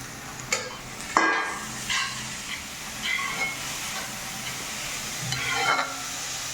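Beans and carrots with onion sauteing in a pan for millet upma, a soft steady sizzle with a few brief scrapes and stirs of the spoon, close by, with no talking.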